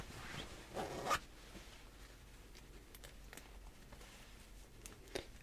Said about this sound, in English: I have to make sure that zippers function on clothing.